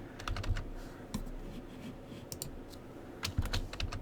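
Quiet bursts of typing on a computer keyboard, quick clusters of key clicks separated by short pauses over a low background hum.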